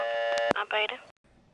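Sharp ticks and clicks on a 1977 step-by-step telephone exchange line in Belhaven, North Carolina, mixed with steady line tones, then falling to near silence after about a second.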